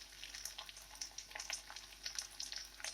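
Raw green chilies sizzle and crackle steadily in hot oil in a pan, with dense close popping and spitting and no voices.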